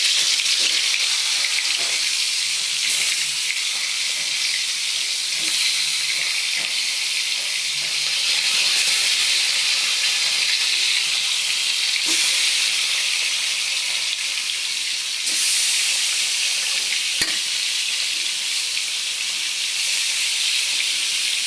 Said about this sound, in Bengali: তো আমি প্রথম মাছগুলো ভেজে নেব তেলাপিয়া মাছগুলো ভেজে নিচ্ছি